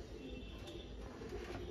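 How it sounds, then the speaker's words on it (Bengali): A pair of Rampuri pigeons, male and female, cooing softly and continuously in a low, steady murmur, close by and without talk. "এটা হচ্ছে নরটা, এটা নর পায়রাটা"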